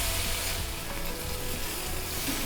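Potatoes roasting in hot oil with chilli powder sizzle in a steady, dense hiss, close and continuous with no talk over it.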